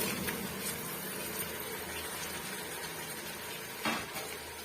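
Four large ripe chopped tomatoes sauté in a pan for Chettinad chicken biryani, giving a steady, close sizzle throughout with a brief louder stir or scrape near the end.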